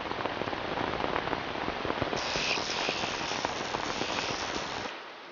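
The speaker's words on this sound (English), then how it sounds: "When it rains this much, the hunters suffer most" Heavy rain pours steadily during a storm in Scotland, a dense, loud hiss of drops on surfaces that continues for several seconds before easing slightly at the end.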